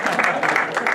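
Loud group clapping comes from an audience at a league banquet, a brief dense burst of many hands.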